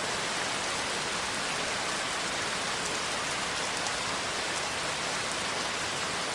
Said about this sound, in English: As the rain continues, a soft mist begins to rise, weaving itself through the trees.